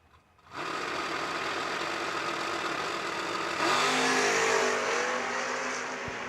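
A Monza and an Oldsmobile launch side by side at a drag strip, engines snapping from idle into a loud sustained roar that rises in pitch as both cars accelerate away, with no talk.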